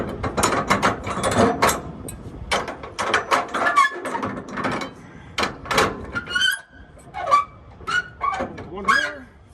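Ratchet strap being cranked tight over a load of transformers on a flatbed truck, a loud close series of sharp clicking ratchet bursts in uneven runs, with brief voice sounds between pulls.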